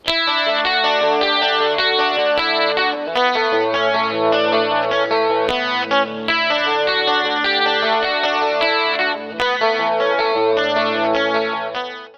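Clean electric guitar run through an MXR Rockman X100, with chorus and echo, playing a steady chordal 1980s rock part alone at full volume, no talking.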